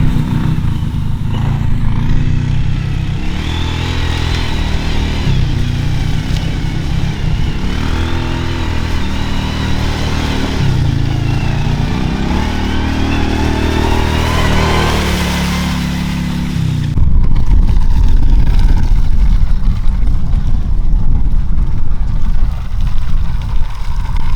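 A tiller engine drones steadily as it is driven toward the edge of a food plot, the pitch shifting with load, then turns to a louder, rougher roar near the end.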